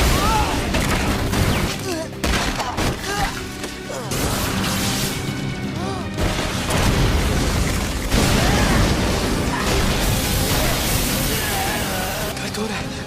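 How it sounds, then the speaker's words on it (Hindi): A loud, chaotic burst of explosive crashes and booms, dense and sustained, with rumbling impacts layered through a noisy game-like soundscape. "शापित शक्ति का धमाका।"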